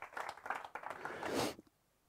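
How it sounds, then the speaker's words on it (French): A church congregation claps for about a second and a half, dense hand applause swelling toward the end before cutting off abruptly into near silence. "Est-ce qu'on peut les applaudir, s'il vous plaît?"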